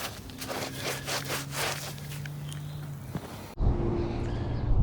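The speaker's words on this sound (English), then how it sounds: "I'm just going to keep cleaning up these trowel marks with a sponge." Sponge rubbed over fresh concrete between stones in a backyard polygonal stone patio, a rhythmic scraping swish in repeated strokes that gives way to a louder, rougher rub near the end.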